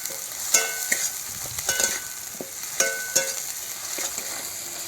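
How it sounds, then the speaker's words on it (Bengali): Masala with salt, turmeric and dried mango frying and being stirred in a pan, a steady sizzle broken by sharp scraping strokes of the spatula at irregular intervals, close and fairly loud, with no talk. "ভালো করে কষিয়ে নেব।"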